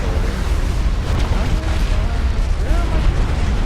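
Dense artillery barrages and booming explosions from the real-time strategy game Supreme Commander rumble continuously at high volume, with players talking over the battle noise.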